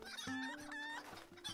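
Chicken clucking in the fantasy video game LOTRO: a close, clear run of several sharp, tonal clucks in uneven bursts, with no talking.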